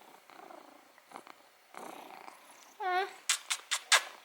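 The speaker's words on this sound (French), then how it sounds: "Vous l'entendez ronronner, là?" A cat named Gros Fudge purring softly up close, with faint rustling, a high meow-like squeak and a few sharp bright clicks or chirps near the end.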